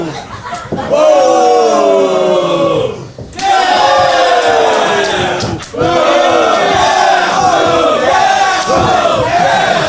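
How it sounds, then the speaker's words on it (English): A crowd roars and cheers at a live independent wrestling show, loud and close, with surges and brief dips as excitement rises after a slap exchanged in the ring; sharp impacts and shouts punctuate the din. "Listen to the crowd."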